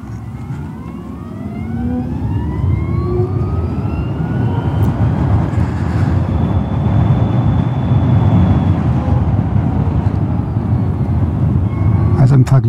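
BMW CE 04 electric scooter on a test ride, giving a steady, loud rush of wind and road noise with a faint rising electric motor whine throughout, no engine pulses.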